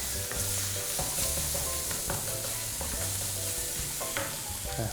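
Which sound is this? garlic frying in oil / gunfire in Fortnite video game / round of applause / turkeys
garlic frying in oil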